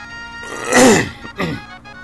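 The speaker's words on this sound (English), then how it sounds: "Excuse me, clearing my throat there." Someone clears their throat twice, a rough rasping burst followed by a shorter one, close up over a faint steady background hum.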